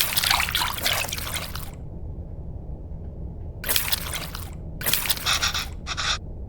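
Water pouring and trickling into a bowl in the cooking video game Venba, several splashy bursts separated by quiet gaps over a steady low background hum.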